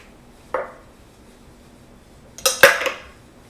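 Butter beer ingredients with cayenne pepper, ginger paste and vanilla get stirred in a container, heard as one short clink followed by a cluster of scraping, clattering utensil strikes, close and otherwise quiet.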